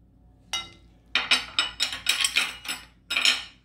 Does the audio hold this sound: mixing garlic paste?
yes